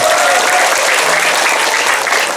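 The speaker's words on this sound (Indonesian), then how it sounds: "Tepuk tangan untuk pamimpin." Loud, dense audience applause at a comic Sundanese sermon, sustained and unbroken from start to finish, close and filling the space.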